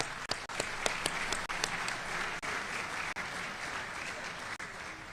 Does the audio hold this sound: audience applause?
yes